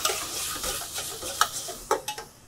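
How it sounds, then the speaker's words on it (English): Fried mushrooms sizzle in a pan as Shaoxing rice wine is added to deglaze, a steady close hiss broken by a few sharp clinks of a utensil stirring against the pan near the end. "I'm going to deglaze with some Shaoxing rice wine."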